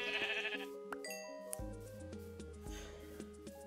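Sheep bleating in Minecraft over a game soundtrack: several short blocky bleats scattered across a few seconds, fairly quiet alongside tonal music.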